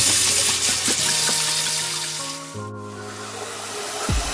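Tap water runs steadily while fresh blueberries are rinsed in a kitchen sink for an oatmeal topping, a close, continuous hiss and splash with a brief gurgle near the end.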